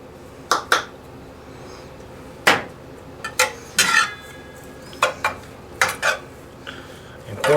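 Taco seasoning, salt and pepper being stirred into cooked ground meat in a pan, heard as a series of distinct utensil scrapes and clinks against the pan at irregular intervals over a quiet background, close and clear.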